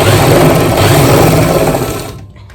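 Sewing machine running steadily and loudly to stitch a seam in fabric, a continuous close whirring hum that cuts off abruptly near the end.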